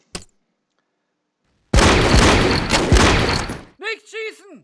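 Gunfire from the Eastern Front wargame Battle Academy 2, set near Moscow in November 1941: a loud, dense burst of rattling shots lasting about two seconds, followed by a few short warbling game tones.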